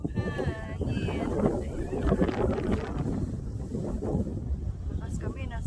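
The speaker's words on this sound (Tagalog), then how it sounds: "Wow, lakas ng hangin" Strong wind buffets the microphone in a constant roar on a mountain ridge during a hike at Kai Kung Leng in Lam Tsuen Country Park, while people talk over it.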